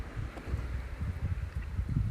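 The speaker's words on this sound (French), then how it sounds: "Le son est bon, on entend un peu le vent." Light wind at a lakeside, a soft low rumble of gusts buffeting the microphone, steady and close, with no other clear sounds.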